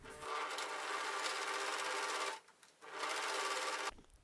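A sewing machine stitches stiff, hard fabric for Swedish roll-up blinds in two steady, loud runs split by a short pause, close by with no talking.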